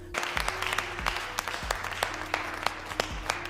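Several people clap in a film's jail scene, scattered uneven claps ringing out over a low steady hum, moderately loud and with no voices.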